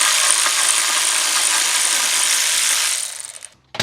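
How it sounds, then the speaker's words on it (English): A ratchet clicks steadily and quickly as it backs out the last torque tube bolt on a C5 Corvette. The loud, close, rapid clatter runs for about three seconds, then slows and stops. "I'm about to take out our last torque tube bolt"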